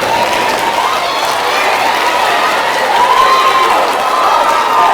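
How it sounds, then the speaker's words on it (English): A middle school audience of eighth graders claps during a school presentation, a dense, loud, continuous patter of hands filling the room with faint crowd murmur underneath. "I'm glad you're clapping"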